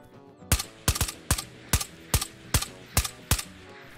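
Gunfire in the Ghosts of Tabor VR shooter, eight evenly spaced sharp close shots fired about every half second, each with a short mechanical rattle after it, no talking.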